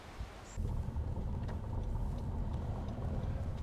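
From inside a car driving slowly through a gated residential community, a low road rumble and engine drone rise after a brief quieter start and then hold steady and soft.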